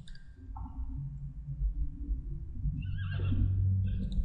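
A horse whinnies in The Sims 3 life-simulation game, a drawn-out neigh over a steady low game hum and soft background music, moderately quiet and with no talk.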